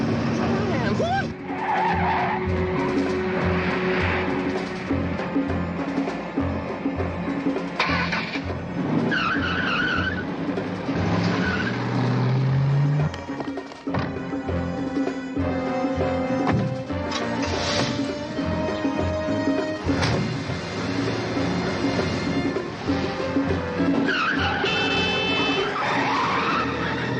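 A speeding car in a TV police drama roars along with tires skidding and squealing, loud and continuous under a dense soundtrack of music and effects, with occasional voices mixed in.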